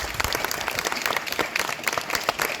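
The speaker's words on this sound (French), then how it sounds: "je vous remercie de l'applaudir encore pour cela" An audience claps steadily in applause at a Bastille Day municipal ceremony in a village, a dense, even patter of many hands at moderate distance without voices.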